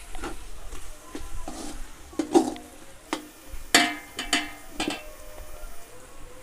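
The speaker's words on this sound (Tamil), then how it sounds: "தக்காளி நல்லா வதங்கணும், அப்போ தான் டேஸ்ட்டு கிடைக்கும்." Tomatoes sautéing in a pan for a village-style rock fish curry, soft sizzling broken by intermittent stirring scrapes and clinks of a utensil against the pot.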